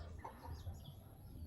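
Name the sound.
chicken clucking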